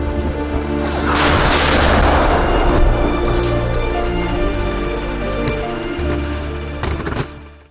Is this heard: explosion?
yes